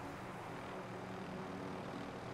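A helicopter in a video game drones steadily, a dense continuous rotor and engine roar at moderate distance filling the whole stretch without pause or talk.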